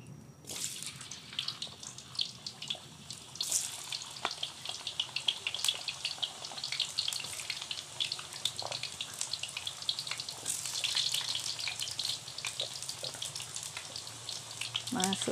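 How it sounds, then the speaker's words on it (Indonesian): Cut potatoes fry in hot oil, a steady close crackle and sizzle with bursts of spitting that continues throughout, with faint background noises. "Masukkan ubi kentang saja dulu. Nah, kita goreng sampai dia empuk."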